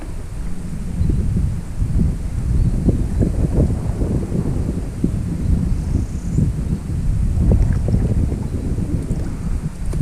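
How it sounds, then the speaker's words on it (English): Steady wind buffets the microphone on a kayak fishing trip near the shoreline, a continuous low roar with gusty surges and some water lapping against the small cheap kayak throughout. "The wind is blowing me right into like the shoreline."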